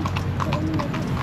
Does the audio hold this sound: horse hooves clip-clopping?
yes